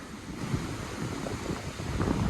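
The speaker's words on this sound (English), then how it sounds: "we're down by the beach. It's a windy day right now." Steady wind rushes and buffets the microphone while waves roll and wash in the background on a windy beach, with no voices.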